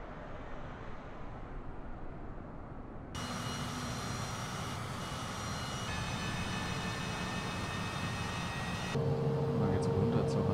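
An aircraft engine in Microsoft Flight Simulator 2020 starts up, its steady hum rising to a fuller, constant drone with tonal whine, while someone talks quietly over it.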